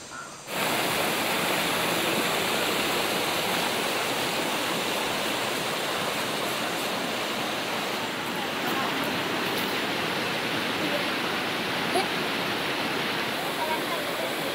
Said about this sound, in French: Le rio Marcapata coule à présent à hauteur de piste, ses rives noyées dans la végétation luxuriante.